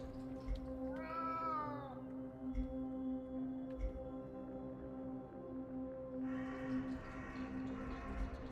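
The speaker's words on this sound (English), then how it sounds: "What are you gonna say, Cat?" A cat in a video game gives drawn-out meows and wails, one rising call near the start and another later, over a steady low musical drone, with no talk.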